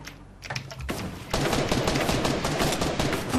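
Rapid gunfire in a Fortnite match, a dense run of loud cracking shots that fills most of the clip after a brief quieter opening, with no talk.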